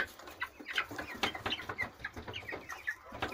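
Turkey poults in a henhouse give soft, repeated chirps and peeps in quick, irregular bursts, close by with a faint barn hum behind them.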